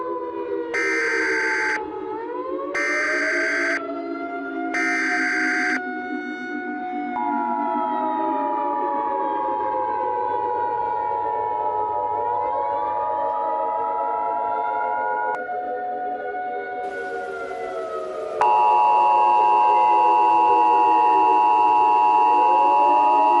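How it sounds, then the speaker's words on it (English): Emergency Alert System warning sequence: three loud, harsh data bursts, then a long wavering siren-like attention tone that sweeps up and down, ending in a steady shrill two-tone beep, all electronic and alone without speech. "This is an emergency action notification."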